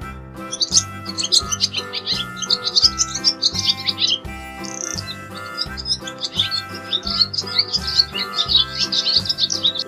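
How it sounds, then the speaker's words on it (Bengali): A dove in a tree calls in rapid, bright high chirps that repeat almost without pause over a steady, rhythmic musical backing. "ঘুঘু পাখি ডাকছে গাছে।"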